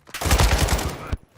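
A single loud, sustained burst of automatic gunfire in Warzone 2 rattles for about a second, close and dense, with no voices.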